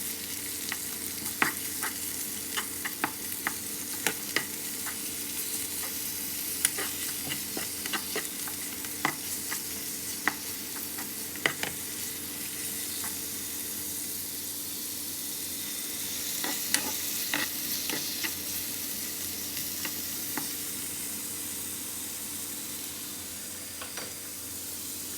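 Bacon sizzling in a pan, a steady frying hiss with scattered sharp pops and crackles throughout, with no talk and nothing else heard.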